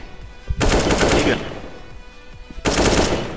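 Two sustained bursts of rapid automatic gunfire in Counter-Strike: Global Offensive, loud and close, separated by a brief lull with scattered lighter shots.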